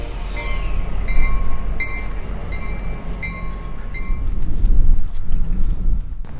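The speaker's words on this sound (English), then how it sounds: "the train finally arrived in Churchill" A loud, rumbling train arrives at the station in Churchill, Manitoba with a steady low roar, repeated short high tonal beeps over the first several seconds, no talking.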